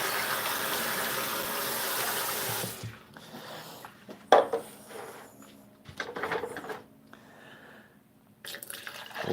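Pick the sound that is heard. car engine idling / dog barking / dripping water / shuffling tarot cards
dripping water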